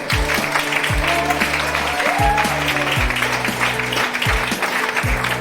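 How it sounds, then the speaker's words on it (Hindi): At a CJ Store company event in Goa, an audience gives loud applause for the company's managing director, a dense continuous clapping wash over a pulsing bass-heavy music beat. "हमारे कंपनी के एमडी सर के लिए जोरदार तालियां"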